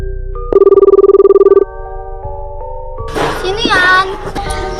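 A telephone rings for an incoming call with a steady buzzing electronic tone lasting about a second, loud and close, and then a voice answers.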